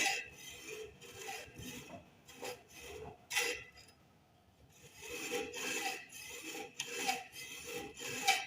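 A hand saw cuts through steel in a workshop, rhythmic rasping back-and-forth strokes close to the microphone, with a brief pause before the strokes resume, no talk.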